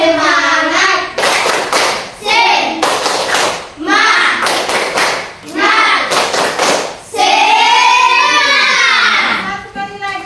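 A group of children claps the rhythmic 'tepuk semangat' spirit clap, loud bursts of patterned claps in quick sets, with voices calling out and chanting between them.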